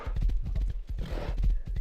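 A horse in the video game Rust clip-clops along in quick, rhythmic hoofbeats, close and clear, with a short whinny-like sound in the middle and no talk.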